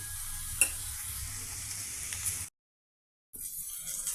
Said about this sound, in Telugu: ఉప్పు పసుపుతో మన పెద్ద ఉల్లిపాయ పీసెస్ బాగా ఫ్రై అయిపోయాయండి.